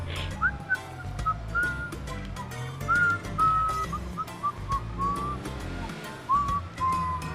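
Someone whistles a 1990s water advert jingle, a bright bouncing tune of short and held notes over a steady bed of low background noise.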